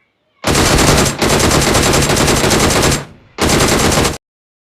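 Gunfire from a video game shooter as an enemy is shot: three loud, sustained automatic bursts, the first two nearly joined and the last after a brief pause, with silence before and after.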